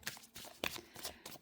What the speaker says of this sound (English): let's go ahead and do some shuffle